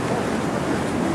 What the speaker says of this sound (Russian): здесь бурлит вода